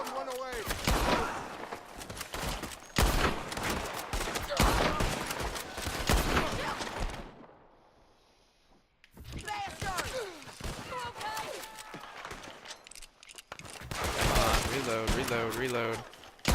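Rapid bursts of gunfire from a Red Dead Redemption 2 shootout crackle close and loud in clustered volleys, pausing briefly midway before resuming, with shouted voices mixed in among the shots.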